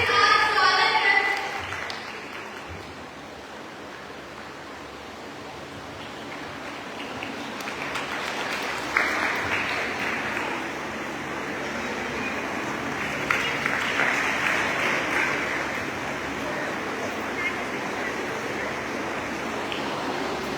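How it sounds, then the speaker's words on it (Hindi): Loud applause from the audience at a school cultural program at a girls' inter college, a broad, sustained crowd clapping that starts after a short burst of speech and keeps going with rising and falling intensity. "तो आइए जोरदार ताली के साथ स्वागत करें"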